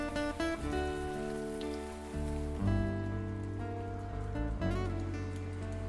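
Rain falls steadily in an animated horror scene, a continuous hiss of drops mixed with loud, sustained tonal music.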